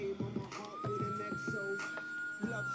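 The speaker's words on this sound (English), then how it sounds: "Got siren." A siren sound effect fired from a DJ controller wails with a smooth rising tone that holds steady over a thumping, choppy beat, loud and close.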